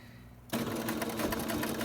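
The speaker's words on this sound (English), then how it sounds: "I'm going to sew forward and then back again" Sewing machine stitching a fabric face mask, starting abruptly after a quiet moment and then running steadily and close, its rapid needle rhythm continuing without pause.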